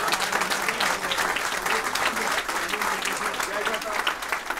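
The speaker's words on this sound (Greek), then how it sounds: "το ζεστό σας χειροκρότημα" Warm applause from a crowd at a Nea Dimokratia political rally in Veria, dense continuous clapping filling the whole clip, loud and close, with voices mixed into the crowd noise.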